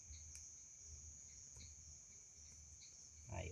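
Crickets chirp steadily outdoors at night during a Saint Anthony bonfire celebration, a faint continuous high trill in a quiet setting, with a brief rustle near the end.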